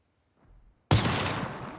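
A sniper rifle fires a single loud, sharp shot in a video game, bursting abruptly out of near silence and trailing off in a long reverberating echo.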